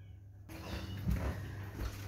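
Domestic cats meow faintly indoors, short mewing calls sitting over a low steady household hum with no talking.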